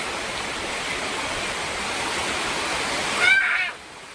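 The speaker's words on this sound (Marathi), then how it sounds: "आणि पाऊस तर जोरदार चालू आहे, मुसळधार." Heavy monsoon downpour outside while people wait sheltered on a farm, a dense, steady hiss of rain throughout that cuts off abruptly near the end.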